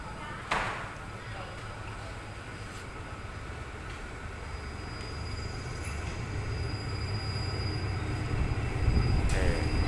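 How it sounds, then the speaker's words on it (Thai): Ordinary train number 254, hauled by a GE locomotive, rolls into Ratchaburi station in Thailand with a continuous low rumble of wheels on rail that builds toward the end, plus faint high squeals and a brief clank near the start. "ตอนนี้ขบวนรถธรรมดาขบวนที่ 254 จากสถานีหลังสวนปลายทางทนบุรีกำลังจะเข้าจอดสถานีราชบุรีแล้ว"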